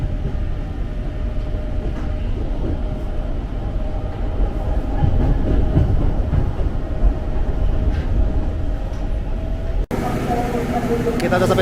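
A JR 205 series KRL commuter train rolls along under a steady rumble of wheels and carriage noise heard from inside the car. Faint voices sit beneath the rumble, and near the end a brief burst of brighter noise breaks in.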